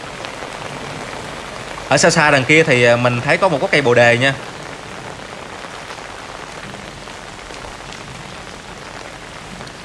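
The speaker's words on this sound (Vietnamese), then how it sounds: "Mưa rất là to, ngập lên láng luôn." Heavy rain pours into a flooded temple courtyard in a dense, continuous roar, close and loud; a person talks over it for a couple of seconds.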